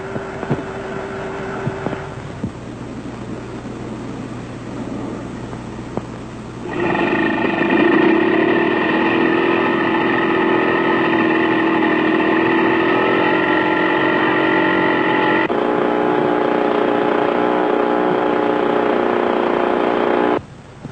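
Portable generator supplying external power to a B-17 bomber, a steady loud mechanical hum with tonal whine that drops to a lower idle, then surges up and runs evenly for a long stretch before cutting back.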